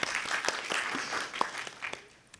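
An audience at a DrupalCon Portland conference session claps in a short, fairly faint burst of applause that tails off.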